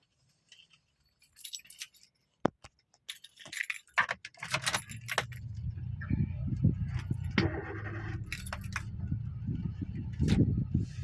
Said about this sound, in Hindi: अब जैसे ये है, गाड़ी मैंने स्टार्ट कर ली, ठीक है।